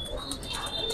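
Pigeons kept for sale, giribaz and pangkhi breeds, coo softly in a brief, quiet burst of repeated pulses over a constant high-pitched background tone.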